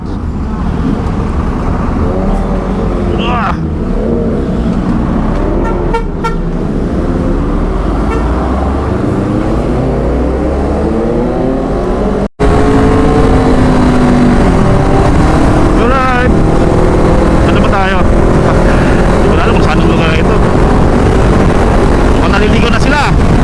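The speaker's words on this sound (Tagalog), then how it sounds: "Patakbo yung motor natin." A motorcycle engine drones steadily at speed on the Balintawak Expressway with heavy wind rush and passing traffic, its pitch rising and falling as it accelerates; a horn toots briefly.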